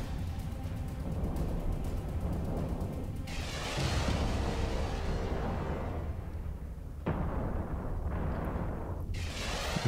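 A Raven battleship's weapons fire in EVE Online, a steady roar of launches and distant blasts layered over a constant droning space ambience, with sudden shifts as volleys start and stop.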